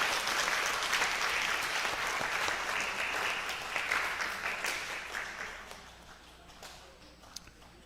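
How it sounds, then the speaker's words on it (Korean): Warm, sustained applause fills a church sanctuary during a Sunday service with child baptism and confirmation rites, loud and steady at first, then gradually thinning and fading toward the end with a few scattered claps. "같이 인사할 때 큰 박수 하겠습니다"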